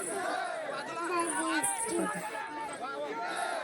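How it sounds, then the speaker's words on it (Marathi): Crowd chatter fills a village temple fair, overlapping voices and babble close by, with one voice standing out above the busy hubbub. "तर एवढी गर्दी भरपूर गर्दी असते"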